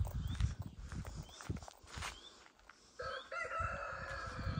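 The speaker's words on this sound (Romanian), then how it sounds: "Cocoș și cântă." A rooster crows out in the Romanian countryside, its call ringing out clearly partway through. It is mixed with hoof-like clip-clop and footstep sounds and low rumbling nearby.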